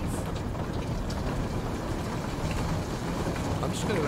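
Steady rain falls outside at night in a video game, a dense, constant hiss of even loudness with no breaks.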